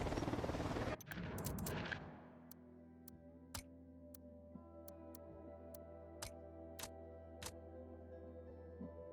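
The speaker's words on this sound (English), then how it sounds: "Opening fire." Gunfire in the tactical shooter Ghost Recon Wildlands opens as a dense, loud burst, then gives way to scattered sharp single shots and clicks over a low steady hum, sounding more distant as it fades.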